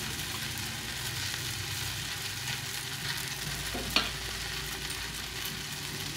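Morola fish cook in a pan with a steady, faint sizzle and bubbling, and a single soft clink of utensil or lid partway through.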